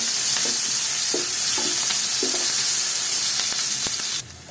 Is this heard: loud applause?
no